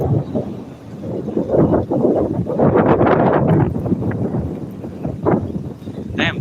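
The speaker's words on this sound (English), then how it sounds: "Damn, it's windy out here." Strong outdoor wind buffets the microphone in a continuous roaring rush with gusty swells while riding a mountain bike on a food-delivery run, with no clear talk.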